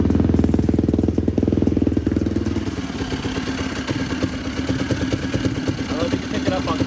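A Yamaha YFZ450 ATV engine cranks and fires, then settles into a steady, loud, close idle with a rapid mechanical clatter. It runs without a break to the end.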